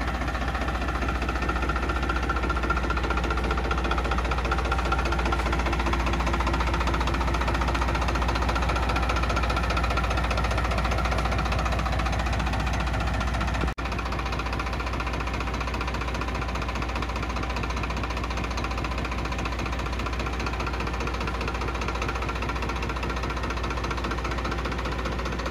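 A Farmtrac tractor's diesel engine idles steadily and loudly throughout, a low continuous rumble with a slight knocking pulse and vibration, with no talk over it.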